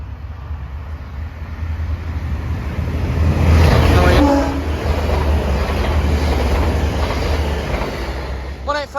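A Scarborough service train passes Denaby level crossing at night, a steady low rumble swelling to a loud peak midway and easing off, with a faint horn-like tone near the end and voices occasionally over it.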